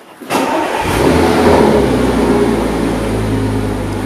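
An Audi A7 with a Prior Design widebody kit starts up with a sharp catch, then settles into a loud, steady, throaty rev that holds close by for several seconds.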